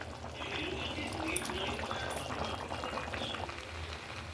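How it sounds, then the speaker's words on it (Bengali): Rice boiling in a pot for Bengali basanti pulao, a continuous bubbling and gurgling water sound heard close and even throughout, with no clear talk. "আমার চালগুলো মোটামুটি সেদ্ধ হয়ে এসছে।"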